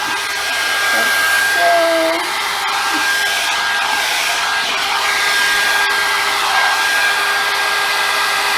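A Revlon hair dryer brush runs continuously at close range, a loud steady airy roar with a thin constant whine and small shifts as it moves through hair.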